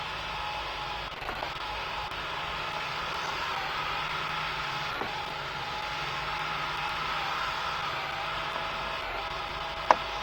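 Airbus A220 jet engines in the Roblox flight game PTFS drone as a steady, even roar with faint whine, continuous and fairly loud, with a couple of small clicks and no talk.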